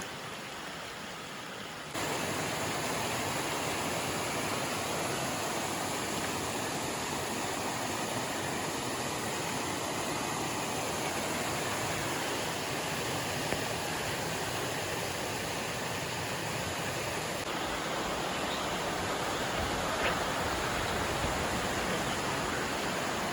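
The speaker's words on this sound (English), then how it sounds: "Pretty river here in Vermont." A river in Vermont flows steadily through the whole clip, a broad, continuous rush of water that is close and fairly loud, with no talking.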